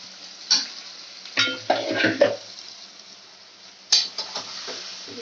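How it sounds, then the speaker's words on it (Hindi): Goat intestine (vajri) frying with onion in a pan, with sharp bursts of sizzling as it is stirred and scraped by a spoon, in short irregular clusters close by, with quiet gaps between. "प्याज में हम इसको अच्छी तरीके से भूनेंगे अभी"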